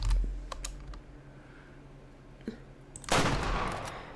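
A hunting rifle fires in the hunting game Way of the Hunter: one sharp, loud report with a rolling tail, preceded by a few faint clicks and a quiet stretch.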